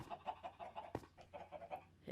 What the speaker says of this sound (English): get a load of chickens just to spawn very, very, very, very quickly